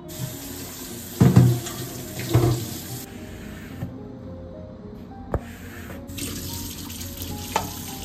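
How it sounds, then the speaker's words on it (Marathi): Dishes are scrubbed and rinsed under a running kitchen tap: a steady close stream of water with clatters and scraping of utensils, a louder splash near the start and brief pauses in the flow. "पटकन थोडीशीच भांडी आहेत ती घासून घेते"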